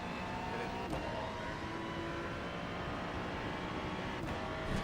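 A car engine idling steadily for several seconds, a constant low rumble close by with faint mechanical whine and a couple of brief knocks, no voices.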